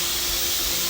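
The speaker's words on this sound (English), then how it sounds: "steam is on everywhere. We're venting that so that it gets all opened up" A loud, steady hiss of steam rushes out of a pressure cooker's vent, broad and continuous for the whole moment.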